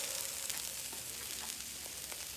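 A 3 pound steak sizzles on a grill over direct fire, a steady close hiss and crackle with a few faint pops, no talk.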